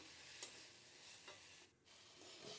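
Raw jackfruit and prawns go into a pan of spice paste frying in oil, bringing a faint, soft sizzle with a few light stirring scrapes and no voice.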